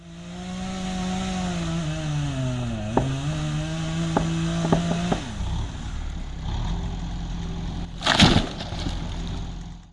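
A chainsaw drones steadily, its pitch dipping under load as it fells a tree, followed by a few sharp cracks and a loud crash around the eighth second.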